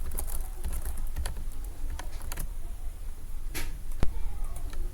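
Fingers clatter on a computer keyboard while typing HTML code, quick irregular key clicks in bursts over a low background hum, close and alone.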